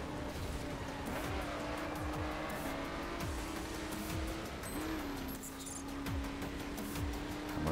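Street racing cars in The Crew video game, with a steady engine whine, repeated tire squeals and passing whooshes from speeding cars, loud and continuous with no talk.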